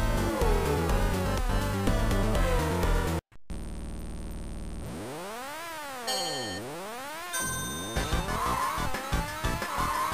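Racing game on the Super 32X, with synthesized car engine and tire skidding effects over busy chiptune-style music, including sweeping, arching pitch glides and a brief cut partway through, loud and continuous with no talking.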